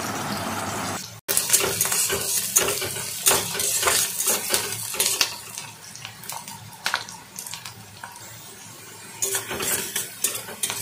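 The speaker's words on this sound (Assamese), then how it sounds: "পিঁয়াজখিনি মই ভালদৰে ভাজি ল'ম গোল্ডেন ব্ৰাউন হোৱালৈকে।" Onions fry in a pan for a brinjal curd masala, stirred with a utensil that makes repeated close scrapes and clinks over a low sizzle.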